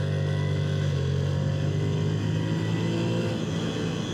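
A motorcycle on a timed acceleration run on a Vietnam road trip holds a loud, steady engine drone close by, with the pitch shifting slightly as it changes gear, and a voice speaks quietly underneath.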